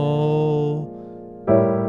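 A piano plays a gospel jazz chord progression from the 4 to the 3 to the 6, each rich chord ringing out clearly alone, with a brief quieter sustain between the later changes.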